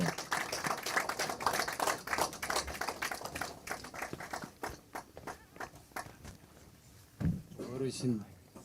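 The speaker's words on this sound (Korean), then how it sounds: "우리 성호 스님 박수로 좀 맞이해 한번 해주십시오." At a political book launch hall, a crowd welcomes a Buddhist monk speaker with several seconds of brisk, dense clapping that gradually tapers, before a voice begins speaking near the end.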